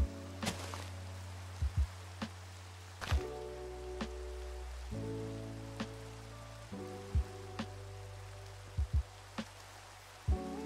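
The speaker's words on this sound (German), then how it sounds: "Es regnet." Rain falls in a Minecraft world, a steady patter under scattered louder drops and occasional soft thuds, with no talking.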